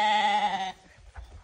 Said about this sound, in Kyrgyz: Асый кочкор болду мына, 4 жаш.